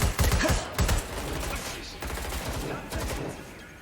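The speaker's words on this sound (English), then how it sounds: "They're shooting." Rapid gunfire bursts in the video game Watch Dogs Legion, loud and dense at the start, then a steady clattering barrage of shots continuing throughout, with a voice briefly heard amid the firing.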